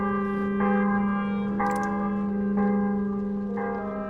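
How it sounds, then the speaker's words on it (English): Bell in the video game Mask of the Rose, a church-style bell tolling in even repeated strikes about once a second, each ringing tone sustained and overlapping the next, with no voices. "that's one cock-blocking bell"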